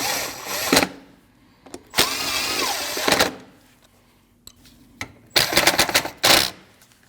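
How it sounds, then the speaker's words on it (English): Bolts on the air inlet tube of a Jeep Cherokee are run down with a power tool, three or four loud bursts of whirring ratchet separated by short pauses, close and alone. "Tighten those down."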